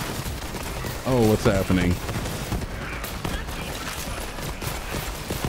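Bursts of automatic gunfire from the video game Borderlands 3, rattling under excited voices that speak over the shooting.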